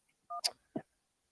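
Telephone tones on a radio show call-in line: a short steady beep followed by two brief blips, clean and isolated against silence.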